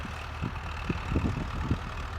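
A 1961 MTZ-50 tractor engine idles steadily with a low, rough rumble and soft irregular knocks, close by and without talk over it.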